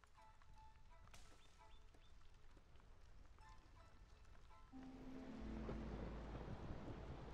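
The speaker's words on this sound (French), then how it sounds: "Ok, là c'est la tempête." Rumbling storm in the Against the Storm video game, steady rain and wind swelling louder toward the end with a low thunder roll, heard alone without talk.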